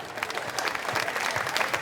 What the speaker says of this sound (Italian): Voglio un applauso.